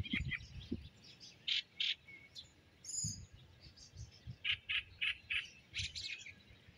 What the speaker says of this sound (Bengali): আমি কিন্তু অনেক রকম পাখির শব্দ শুনতে পাচ্ছি